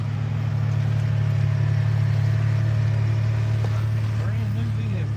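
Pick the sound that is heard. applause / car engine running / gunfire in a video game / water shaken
car engine running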